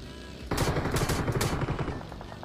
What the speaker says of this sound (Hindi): पीछे वाली साइड से एक बंदा ग्रोजर से शॉट लिया था